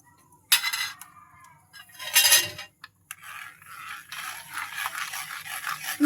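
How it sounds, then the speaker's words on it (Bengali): A pudding mixture is strained through a sieve, with intermittent metallic scrapes and clinks of a utensil against the mesh and bowl, close and unevenly spaced, followed by a softer continuous scraping rustle, with no talking. "আমি এটা ঢেলে নেব, চালনিতে ছেঁকে নেব।"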